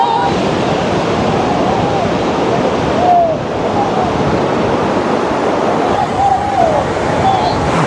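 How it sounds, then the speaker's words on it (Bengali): High monsoon sea waves breaking on Bakkhali beach, a loud continuous surf roar with wind buffeting the microphone, faint crowd babble and distant calls of beachgoers mixed in. "আর ঢেউ দেখতে পাচ্ছি বকখালিতে এই বর্ষায় উঁচু উঁচু ঢেউ দিচ্ছে"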